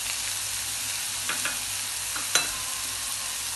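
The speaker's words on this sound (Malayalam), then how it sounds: "നമ്മുടെ വെളുത്തുള്ളി ഇഞ്ചിയും കൂടെ ചതച്ചത് ഇട്ട് കൊടുക്കാം." Crushed garlic and ginger fry in a pan with onion for pepper chicken, giving a bright, steady close-up sizzle with a few brief scraping stirs.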